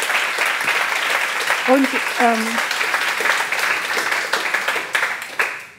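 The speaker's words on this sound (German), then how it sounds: "Also auch ihr mit dem Applaus und dem Jubeln tragt dazu bei, dass man sich hier auch großartig fühlt" Audience applause and cheering after a talk on leadership, a dense steady clapping wash filling the whole stretch, with a few brief voices rising over it near the middle.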